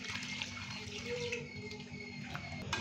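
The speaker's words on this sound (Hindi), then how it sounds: "और अभी हम इसके अंदर पानी डाल देंगे।" Water pouring steadily into a bowl of chicken marinade, a continuous soft splashing stream at close range with no talking.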